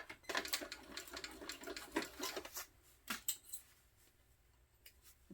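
A sewing machine back stitching on a Rachel tote bag, quiet bursts of needle clatter and clicks in short irregular runs with pauses between them, close by.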